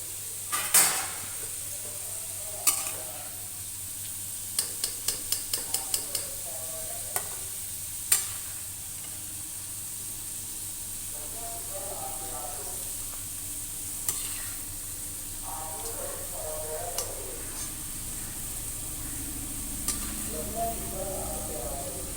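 Fried arbi is lifted out of hot oil into a pot with a metal spoon, scattered sharp clinks and scrapes against the pan over a quieter, continuous background sizzle.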